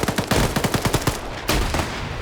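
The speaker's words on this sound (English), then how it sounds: "I'm literally watching people mag dumping each other." Video game gunfire from SKS and M14 rifles in a team match: rapid bursts of sharp shots in quick succession, then a few heavier isolated reports, loud and close with no voices.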